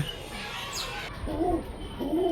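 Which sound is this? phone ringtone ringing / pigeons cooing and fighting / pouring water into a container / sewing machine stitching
pigeons cooing and fighting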